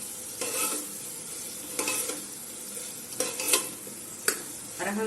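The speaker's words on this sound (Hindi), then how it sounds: "इसको अच्छी तरीके से मिक्स करेंगे।" A spoon stirs soya chunks into onion masala sizzling in oil in a pan, with scraping strokes against the metal at irregular intervals over a soft frying hiss.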